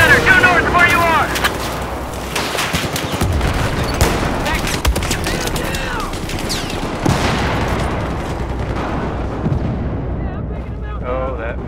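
In a Battlefield 4 close-quarters match, machine-gun fire and other gunfire sound as loud, dense, continuous rattling bursts, mixed with explosions and in-game voices.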